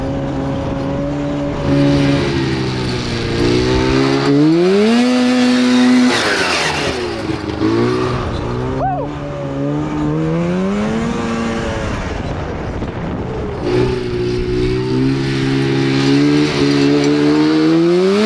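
A 670cc two-stroke go-kart engine revs hard while its tire spins on a track: a loud, buzzing, rising and falling whine that surges up and down over the whole stretch, close by and alone.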